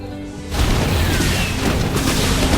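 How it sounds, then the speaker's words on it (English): A siege tank is destroyed in a StarCraft II match: a sudden loud explosive boom bursts in after a quiet half second, then a dense crashing rumble sustains at full level to the end. "And the siege tank goes down."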